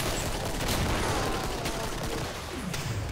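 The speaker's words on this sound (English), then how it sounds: "This guy spamming his 9mm." Rapid, continuous 9mm pistol fire in the shooter game Killing Floor, shots blurring into a dense, loud barrage with a constant wash of game noise underneath and no pauses.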